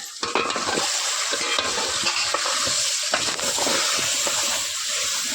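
Mutton drops into a hot pan of roasted garlic and ginger paste on a wood-fired chulha, then sizzles and fries loudly while being stirred, with scraping and sputtering bursts close up and no talking.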